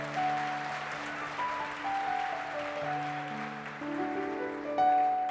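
A church congregation applauds during a worship service, a soft, dense wash of clapping held under sustained organ-like keyboard chords that shift slowly across the clip.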